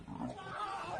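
Leopard snarling and roaring while attacking men, one brief, harsh, growling roar, loud and close, lasting about a second.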